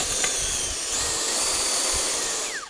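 A Makita DDG460 cordless earth auger runs continuously with a steady motor whine and hiss, fairly loud and close, then winds down at the end with a falling pitch.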